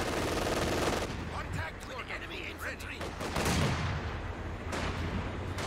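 Mortar and gunfire in the World War II strategy game Company of Heroes 2: thudding impacts and crackling shots rolling continuously under a voice talking.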